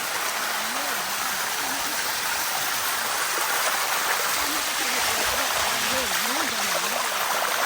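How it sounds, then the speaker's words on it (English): A waterfall in Thailand that people climb on foot roars loud and steady throughout, a dense continuous wash of falling water with voices faintly calling over it. "a full-on waterfall"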